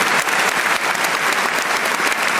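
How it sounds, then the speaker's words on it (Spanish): Church congregation applauding during an evening service, a dense, loud, steady wash of clapping from a full room, sustained throughout with no talk over it. "Denles aplauso si quiere al Señor en esta noche."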